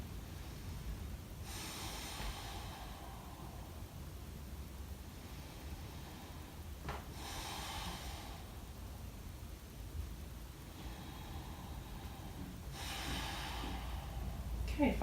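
Slow, deep breaths during a post-natal core exercise, three long airy inhale-exhale cycles spaced several seconds apart, close and soft over a steady low background hiss.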